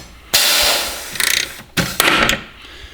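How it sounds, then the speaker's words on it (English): Hand rivet tool setting a rivet to fasten a bolt lock onto a Jeep grille: a few close, sharp squeezing crunches and a rapid ratcheting rattle, then a final snap, with short pauses between strokes. "I'm going to rivet down the first one"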